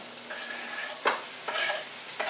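Grated carrots drop into a hot pan and sizzle steadily while being stirred, with a few soft scraping strokes of the utensil, close and fairly quiet, with no talking.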